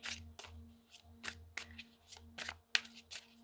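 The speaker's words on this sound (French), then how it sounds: "Alors, on va les mélanger." A deck of oracle cards being shuffled close up, heard as a quiet series of soft riffling swishes and taps in an uneven rhythm, each lasting a moment.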